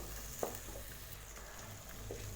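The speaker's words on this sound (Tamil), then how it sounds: "இப்போ இதோட நம்ம அரைச்சி வச்சுருக்கிற புதினா பேஸ்ட்டை இதை சேர்த்திடலாம். இதை நம்ம நல்லா 1 நிமிஷம் நல்லா வதக்கினா போதும்." Ground mint paste being sautéed in a pan for mint rice, a faint, soft sizzle with a few light scrapes of the spoon, quiet and steady.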